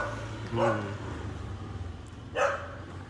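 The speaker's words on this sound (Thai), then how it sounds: "หมาก็เห่านะครับ" Dogs barking outside a temple ordination hall in Saraphi, Chiang Mai, two short bursts about two seconds apart over a low steady hum and faint background noise.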